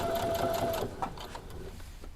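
Sewing machine stitching fabric binding onto a quilt, a steady close mechanical whir that runs for most of the clip before easing off, with a thin tonal whine at the start.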